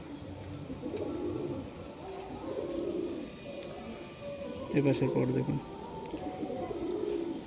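Breeding and flying pigeons in a loft in Nabadwip coo in repeated low throaty phrases close by, while someone talks over them.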